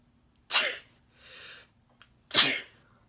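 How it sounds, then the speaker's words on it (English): Two sharp sneezes a couple of seconds apart, close and loud, with a softer breathy sound between them in an otherwise quiet room. "I'm going to sneeze"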